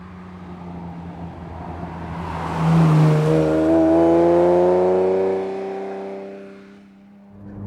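A Ferrari 296 being driven gives a low engine drone that swells into a rising, revving tone and then eases back, heard from inside and fairly close.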